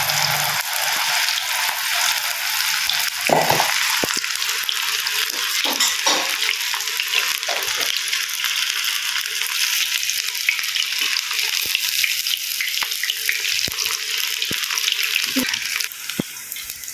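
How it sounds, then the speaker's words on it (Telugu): Baby corn manchurian frying in hot oil on high flame, a loud, dense, continuous sizzle heard close up with occasional faint clinks of a utensil, no voices. "దీనిలో బేబీ కార్న్ మంచూరియాది వేస్తున్నాను."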